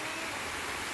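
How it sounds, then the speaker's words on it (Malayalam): Water rushes steadily at Malampuzha dam in Palakkad, a dense, even hiss of flowing water that stays unbroken through the brief moment. "ഇവിടെ വെള്ളമൊക്കെ പോകുന്നുണ്ട് കേട്ടോ"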